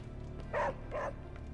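Two quick barks from Charlie, a dog in the video game Marvel's Midnight Suns, close and moderately loud over a low background hum.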